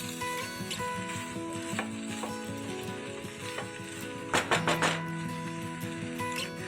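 Stuffed okra and potatoes being stirred in a hot pan, a steady sizzle with scraping spoon strokes against the metal and a brief burst of louder clatter midway, no voices.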